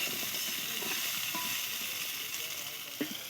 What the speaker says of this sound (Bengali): দেখো আলুটা ভাজা ভাজা করছি দেখো কেরকম